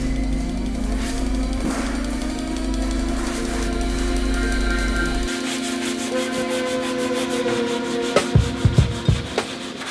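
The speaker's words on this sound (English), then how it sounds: "I'm going to sand it with a block and 80 grit sandpaper" Body filler on a 2005 Subaru STI panel is sanded by hand with a block and 80 grit sandpaper, making a steady, close abrasive rubbing with a constant hum behind it. Rhythmic strokes then speed up near the end.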